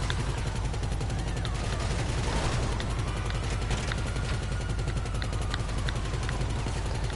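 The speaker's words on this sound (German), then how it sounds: "Das Fahrzeug hat einer der stärksten Kanonen von der kompletten Reihe." Heavy vehicle-mounted cannon in GTA 5 Online fires in a rapid, continuous stream of loud bursts with an engine rumble underneath, dense and sustained throughout.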